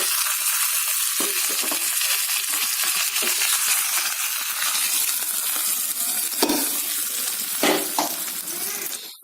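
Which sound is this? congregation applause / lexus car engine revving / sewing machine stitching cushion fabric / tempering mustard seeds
tempering mustard seeds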